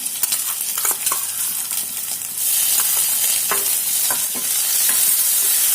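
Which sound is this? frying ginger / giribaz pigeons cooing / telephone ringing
frying ginger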